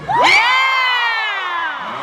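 A convention crowd at a Wizard World Philadelphia panel cheers loudly, with high whoops and shouts rising over a broad roar that holds steady, then eases slightly over two seconds. There is no talking over it.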